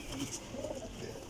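A Sialkoti pigeon with golden pearl markings gives a short, soft, low cooing phrase, close by and faint against quiet background noise.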